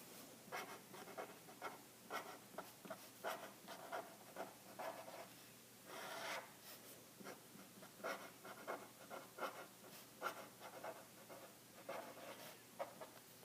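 Pen scratching across paper while mathematical working is jotted down, a steady run of short, close scribbling strokes with brief pauses, quiet and alone.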